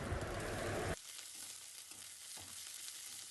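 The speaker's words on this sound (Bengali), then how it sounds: "এরকম লাল লাল করে পেঁয়াজটাকে ভেজে নেবেন" Onions fry in a pan for a pointed gourd and prawn curry, a close, steady sizzle that drops off sharply after a second and continues more softly with stirring sounds.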